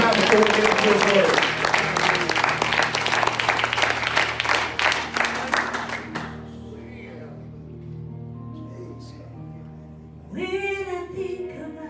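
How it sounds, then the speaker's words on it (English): A church congregation claps hands together in a dense, steady burst that fills the room for about six seconds, then fades into soft organ-like tones before singing voices rise near the end. "Lord, a hand clap"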